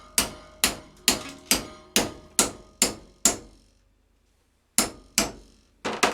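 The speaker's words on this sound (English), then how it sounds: "and using a simple vise, a simple hammer" Steady metallic hammer strikes on a metal bracket held in a vise ring out one after another, pausing for about a second before a few more blows resume.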